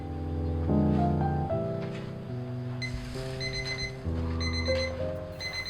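An alarm clock set as a baking timer for rye baguettes rings with a series of stepped electronic melodic tones, clear and close, changing pitch in short phrases without any talk.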